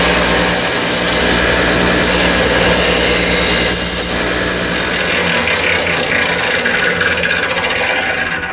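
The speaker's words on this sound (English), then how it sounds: "just taking all the sharp edges off of that" A file rasps the sharp edges off a metal tailstock torque bar made for a Craftsman-Atlas lathe, a loud, steady, continuous scraping that runs unbroken for several seconds.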